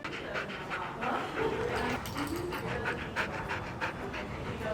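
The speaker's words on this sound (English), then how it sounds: "Cypress Creek has a new comfort dog." A dog pants steadily and rapidly at close range, quick breathy huffs repeating without pause.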